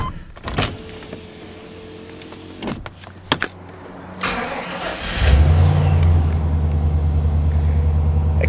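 A 1997 GMC Sierra K2500 truck with an occasional stumble on startup. After some clunks and clicks, the engine cranks and catches into a loud, steady low-pitched idle, close by with no talking.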